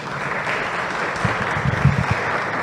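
A church congregation applauds together, a steady wash of clapping with a few louder bursts, filling the room for a couple of seconds.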